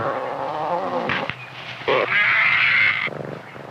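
Black-maned lions in a pride playing roughly, trading deep grunts, throaty growls and a drawn-out snarl, loud and close, with no voices.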